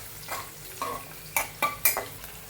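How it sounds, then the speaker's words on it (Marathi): Chopped garlic frying in oil in a pan for fried rice, heard as a faint steady sizzle broken by several short scraping stirs that grow louder toward the end. "लसूण चांगला फ्राय झालेला आहे"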